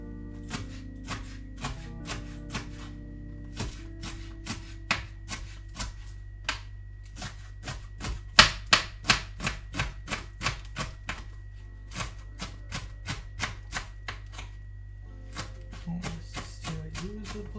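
Knife chopping vegetables for a chicken and veggie dinner: a long run of crisp, evenly spaced taps on a cutting board, quickening into rapid bursts midway, over a steady low hum with faint music.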